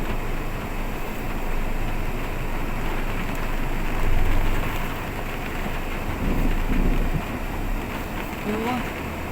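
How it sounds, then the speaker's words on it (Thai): Heavy rain pouring steadily outdoors, a loud, dense roar with gusty rises and falls, and a voice speaking through it. "ฝนตกแรงมากค่ะ"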